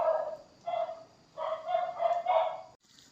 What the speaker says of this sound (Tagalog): Ang ingay-ingay na naman ng aming mga aso dyan sa labas.